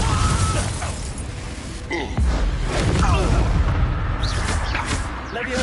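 Confringo explosive spell blasts in the Hogwarts Legacy video game, a dense run of booming, crackling hits over steady battle noise with no gaps between them.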